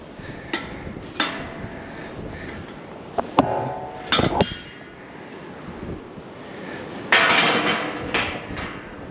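Metal barn gate being unlatched and swung open in a livestock barn, giving a few sharp clanks and rattles at close range, with a louder scraping burst near the end.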